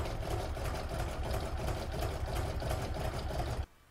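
Embroidery machine stitching a zigzag around the raw edge of an in-the-hoop oval fabric coaster, a steady rapid mechanical whir with fast needle pulses that runs without pause and cuts off abruptly near the end.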